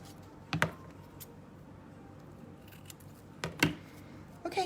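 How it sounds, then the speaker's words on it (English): Scissors snipping paper fringe strips for a craft frame, a few sharp close cuts spaced apart with quiet pauses between, no talking. "I need a thinner space here. I'll cut it again."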